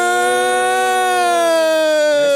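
A loud siren holds a single sustained, rich tone that slowly sinks in pitch over a couple of seconds, with no voices over it.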